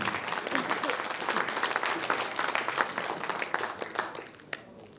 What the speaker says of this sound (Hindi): इनके लिए भी एक बार जोरदार तालियां बजाते हैं।